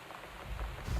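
Rain patters steadily in the video game Gone Home, and a deep low rumble of thunder swells in toward the end of the second, with no voices over it.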